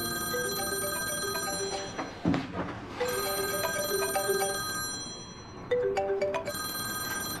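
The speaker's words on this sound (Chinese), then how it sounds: "温让，你知不知道你这个电话很不合时宜啊？" A phone ringtone plays a repeating melodic pattern in bursts, loud and near, with a short break between phrases and no talking.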